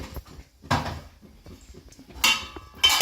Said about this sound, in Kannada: ಜೀರಿಗೆ ಡಬ್ಬ ತಗೊಂಡಿದ್ದಾರೆ